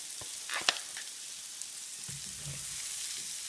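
Salted mushrooms sizzle faintly in a pan, a low steady hiss with a couple of light clicks near the start.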